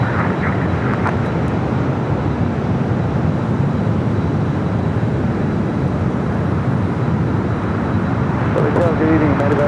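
An Iberia heavy jet taking off from runway 25 right at Los Angeles International Airport, a steady loud rumbling engine roar that holds evenly throughout, with a brief voice near the end.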